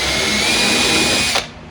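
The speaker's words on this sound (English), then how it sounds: "we've got our Kreg jig here on 3s, set at the correct depth back here, and now we're going to drill it" A drill bores a pocket hole through a Kreg jig set for 3 stock, a loud steady high whine close by for over a second, then cutting off abruptly as the motor stops.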